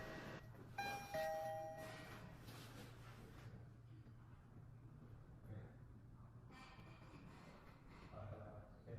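A smart lock with a built-in camera sounds its doorbell chime, a short ringing tone near the start over a low steady hum, followed by quieter shuffling.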